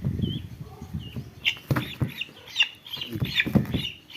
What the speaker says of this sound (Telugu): ఈ చివిటి కోడికి హెల్త్ సరిలేదు